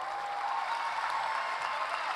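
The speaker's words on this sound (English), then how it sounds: "Big round of applause, Atharva." Steady applause from a graduation ceremony crowd for a graduating high school senior, an even wash of clapping that holds for a couple of seconds at moderate distance.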